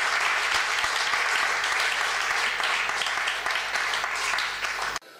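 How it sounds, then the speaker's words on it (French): Audience at a posthumous tribute event for a former Aiglon claps loudly and continuously in thick, sustained applause that stops abruptly after about five seconds. "On peut vous applaudir bien fort."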